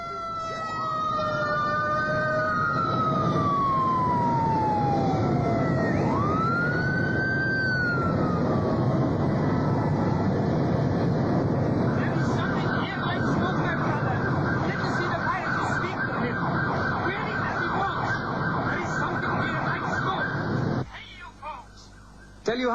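Airport fire truck sirens wail with rising and falling tones over a steady rushing roar, following a 1981 Saudia Lockheed TriStar, flight 163, after landing at Riyadh airport; the sirens fade out and the roar cuts off near the end.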